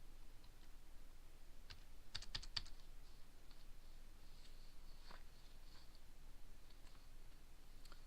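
Keystrokes on a computer keyboard while a quantity is entered into farm management software, a quick burst of several sharp clicks midway and scattered faint taps elsewhere, quiet and close with no talking.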